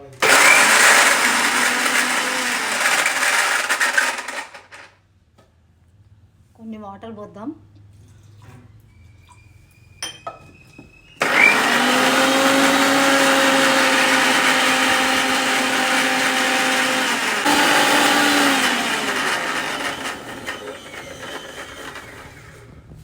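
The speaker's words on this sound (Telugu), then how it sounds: "ఇప్పుడు ఒకసారి మిక్సీ పెడదాం దీన్ని." A mixie grinder whirs loudly while blending garlic and chilli powder into a spice paste, first in one long burst, then a pause with brief talk and clatter, then a second sustained run of whining grinding.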